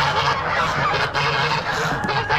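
About 30 geese honking together at an animal auction in a loud, continuous chorus, with overlapping calls close by and no pauses.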